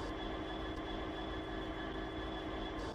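A freight container train rolls into a rail yard with a steady, loud, continuous engine drone and rumble, a high whine running through it the whole time and no voices.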